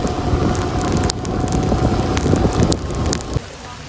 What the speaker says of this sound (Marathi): पाऊस तसा आहे छोटा, पण बाईक वरती खूप लागते.